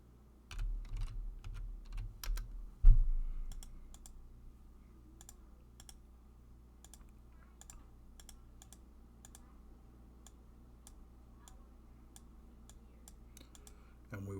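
Keys on a computer keyboard clatter in a hard burst of fast typing and a heavy slam, then scattered lighter keystrokes tick sparsely and faintly over a quiet room.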